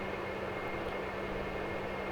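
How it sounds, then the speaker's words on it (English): A Q400 turboprop aircraft engine runs during its start sequence, heard from the flight deck as a steady, loud drone with a constant low hum and a thin high whine that never lets up. "the start push button is then selected to energize the start sequence"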